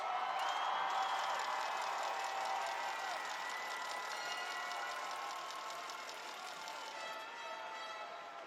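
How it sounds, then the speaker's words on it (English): Steady applause from a large crowd at a high school graduation ceremony, sustained and fairly even, gradually tapering slightly toward the end, with no voices over it. "Let's give one more round of applause for our 2024 graduates."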